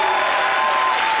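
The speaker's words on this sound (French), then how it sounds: "Je vous entends applaudir bien fort." A short burst of loud, dense applause from a TV studio audience, with crowd noise mixed into the clapping.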